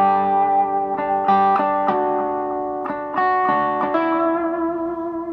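Guitar notes and strummed chords played through an M300 reverb pedal, each attack blooming into a long, washy tail that fills the space between notes.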